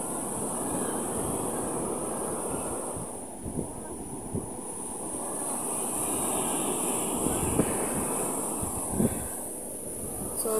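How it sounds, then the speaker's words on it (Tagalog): Strong waves and gusting wind after Typhoon Uwan roar steadily along the shore, a loud, continuous rushing wash with wind buffeting the microphone and a faint high whine overhead. "Grabe ang lakas ng mga alon. Pati hangin."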